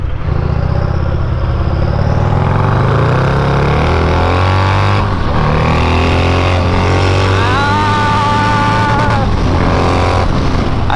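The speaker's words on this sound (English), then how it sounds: "All right, Craig, let's get in 2nd gear when I say go, and we'll get up to the speed limit of the highway." A 223hp turbo Harley-Davidson accelerates hard in second gear onto a highway. The loud, close engine roar climbs steadily in pitch throughout, with wind buffeting and no talk.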